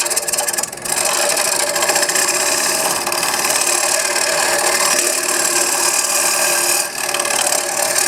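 A hollowing tool cuts into cocobolo wood spinning on a lathe, giving a steady, loud, close scraping hiss that holds for several seconds with brief dips at the start and near the end.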